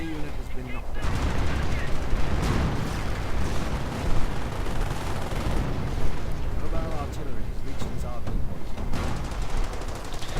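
Artillery barrages and explosions in a WWII real-time strategy game battle, dense overlapping booms and gunfire crackling continuously and loudly, with a commentator talking over the chaos.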